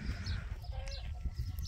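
Village chickens in a farmyard, a few short clucks and calls close by, mixed with low background rumble and faint voices.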